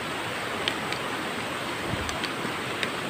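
Heavy rain falls with rushing water in a steady, dense broadband wash, with a few faint drips or splashes standing out.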